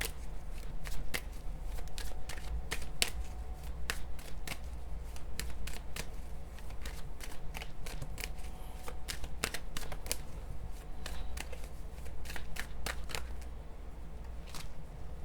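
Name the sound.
shuffling tarot cards, some falling out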